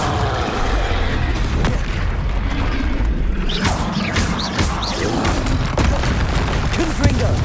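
Fire spell blast in Hogwarts Legacy, a steady dense roar of booming game combat effects with several sharp bursts, loud and continuous throughout.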